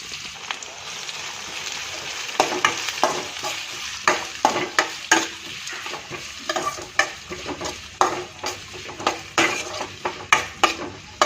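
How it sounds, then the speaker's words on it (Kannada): Onions frying in oil with mustard seeds, cumin, curry leaves and green chillies for avalakki, under a busy sizzle with frequent rapid scrapes and clinks of a spatula against the pan, close and continuous. "ಇವಾಗ ಈರುಳ್ಳಿ ಹಾಕಿದ್ದೀನಿ ಇವಾಗ ಇವಾಗ ಫ್ರೈ ಮಾಡೋಣ ಇದನ್ನು"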